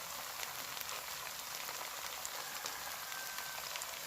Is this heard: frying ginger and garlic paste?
yes